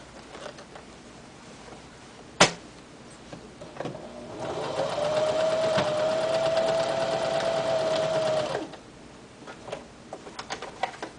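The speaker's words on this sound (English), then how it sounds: "Right now we're just stitching around the edges of the patch again." A sewing machine stitches around the edges of a denim jeans repair patch, running in a steady continuous whir for several seconds after a sharp click, with quieter mechanical ticks before and after.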